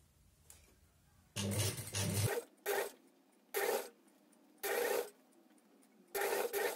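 A zipper slider on a sweatshirt under repair is pulled along the teeth in several rasping strokes of about a second each, close and clear, with brief pauses between pulls.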